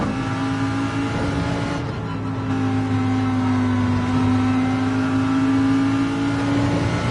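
A race car engine drones steadily in a racing video game, a loud sustained high-revving tone holding near-constant pitch with a slight dip and recovery, heard alone.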